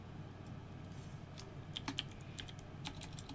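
Keys clack on a computer keyboard in quick, irregular bursts, fairly faint over a low steady background hum.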